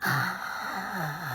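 A voice imitates heavy breathing, a single drawn-out breathy gasp with a moaning tone, as if rising from a crawl space beneath a bedroom. It is close and fairly loud, with no other speech.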